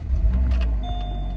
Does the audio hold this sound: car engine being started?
yes